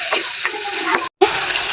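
Lati fish sizzling in hot spiced oil as a bhuna is cooked, a steady loud frying hiss with small spattering pops and stirring scrapes, cut by a brief silent gap.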